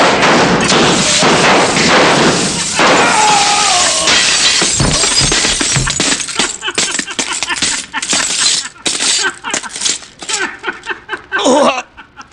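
Gunshots shattering mirrors: a dense, loud barrage of bangs with crashing, tinkling glass, then scattered shards and pops trailing off, with brief voices mixed in.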